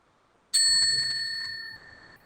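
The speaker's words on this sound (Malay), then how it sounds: "Loceng pertama akan dibunyikan pada minit ke-8" A single bright timer bell rings out sharply during a timed presentation session and rings on, slowly fading over about two seconds.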